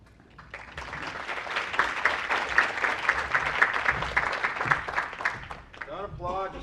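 An audience applauds as a public-health speaker is welcomed to the stage at an evening talk, steady clapping lasting several seconds before fading into a voice near the end.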